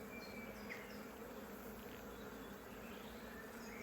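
Honeybees buzz at an open hive during a brood inspection, with foragers bringing in nectar and pollen: a steady, soft, continuous hum of many wings close by, with no talk over it.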